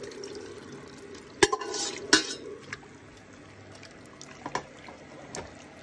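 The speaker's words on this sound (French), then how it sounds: "Je verse tout le vin de la marinade" Red wine from the marinade is poured into a pot of beef for bœuf bourguignon, a soft liquid wash at first with a few sharp clinks and knocks of utensils against the pot, nearby and fairly quiet.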